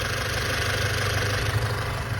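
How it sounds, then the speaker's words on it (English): A warmed-up Alfa Romeo Giulia fitted with a downpipe idles steadily up close, its engine holding an even, continuous rumble with no breaks or revving. "Sitting here at idle with the car warmed up,"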